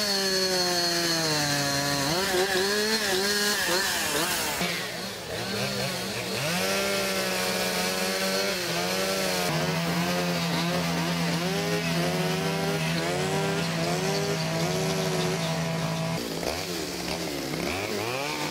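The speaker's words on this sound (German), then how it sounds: "die schnitzenden Künstler mit der Kettensäge" A chainsaw carves wood at a speed carving contest, its engine revving and bogging in continuous wavering pitch as the chain bites into the wood, loud and close for the full stretch.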